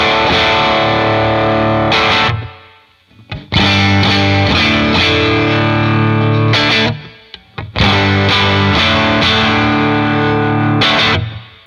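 Electric guitar on the bridge pickup with Lambertone pickups, compressor and a touch of reverb, playing sustained chord strums in phrases with brief gaps, loud and full.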